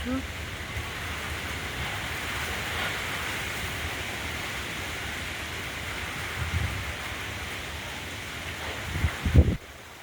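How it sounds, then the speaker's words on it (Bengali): A storm's heavy downpour makes a steady, dense hiss that fills the scene at dusk. A few low thumps rise near the end. "বৃষ্টি পড়ছে এখন, প্রচণ্ড বৃষ্টি পড়ছে।"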